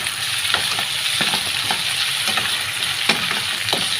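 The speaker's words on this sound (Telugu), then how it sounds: "ఇది కూడా నూనెలో అయితే బాగా మగ్గనిస్తామన్నమాట." Ingredients for a fish curry, including fresh coriander, fry loudly in hot oil with a dense, continuous sizzle and scattered sharp crackles and spits close by.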